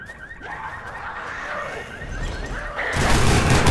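A warbling, repeating electronic alarm wails steadily in the video game Dead Island: Riptide, then swells louder near the end over a rising wash of noise.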